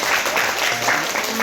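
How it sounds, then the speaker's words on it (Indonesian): Classroom students give a brief round of applause, a short dense wash of clapping that stays loud and steady. "tepuk tangan."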